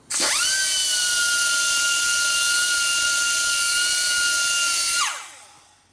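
A grinder spins up sharply and whines at a steady high pitch for about five seconds while grinding the frame of a 1942 Harley-Davidson WLA motorcycle, then winds down, loud and close.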